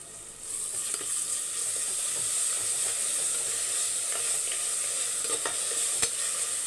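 Onions with ginger-garlic paste fry in an oil-filled pan for a Tamil duck curry and biryani, a steady close sizzle and hiss with scraping stir strokes now and then, and no talk over it.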